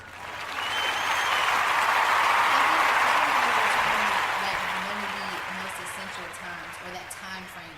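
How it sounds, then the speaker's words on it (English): A live audience applauds at a college event, a dense, loud wash of clapping that swells and then slowly thins out, with a few voices and whoops running beneath it. "Let's clap it up for T Breeze."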